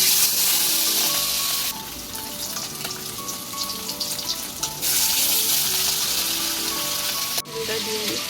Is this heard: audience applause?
no